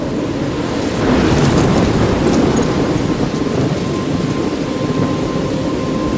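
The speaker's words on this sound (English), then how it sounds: "I'm trapped in a storm?" Steady heavy rain and rolling thunder fill a storm scene in the video game Life is Strange, a loud continuous wash with a swell of rumbling thunder early on and no voices.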